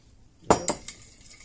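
A utensil stirs low-sodium soy sauce and teriyaki in a dish, with a few quick clinks and scrapes against the container, close and brief, amid otherwise quiet.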